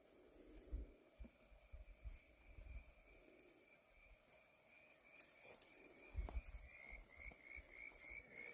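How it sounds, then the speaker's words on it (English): Frogs croaking at night by Lake Pedder, a faint chorus of repeated calls with a steady high trill running throughout and occasional closer croaks, no voices. "When the frogs start singing."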